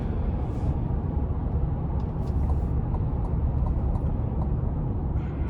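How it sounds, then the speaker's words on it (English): The turbocharged 2.5-litre four-cylinder engine of a 2024 Chevrolet Traverse Z71 AWD drones steadily inside the cabin while it drives, a low continuous rumble mixed with road noise and no talking. "starting the test drive in this Traverse here, I will say it has a very strong 4-cylinder here with a turbocharger"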